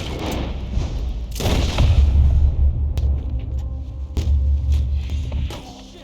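Several loud gunshots and booming blasts from a gunfight in Red Dead Redemption 2, sharp cracks ringing out close by with low rumbling echoes between them.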